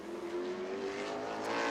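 A modified race car running a qualifying lap at New Smyrna, its engine a loud, sustained drone with a steady rising pitch, close by and without talk.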